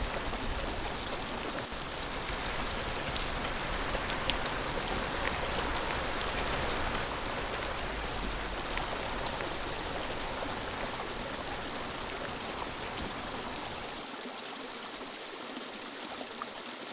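Steady rainfall mixed with a rushing, babbling stream in the Sandhan Valley near Bhandardhara, a dense continuous wash of water that stays loud throughout, with the low rumble dropping away near the end.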